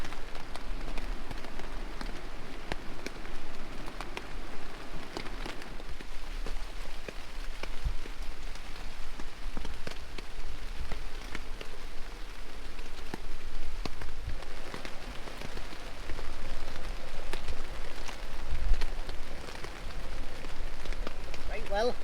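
Steady rain patters on a hot tent at a camp in a valley beside a stream, a dense continuous drumming with scattered louder drops throughout, and no talking.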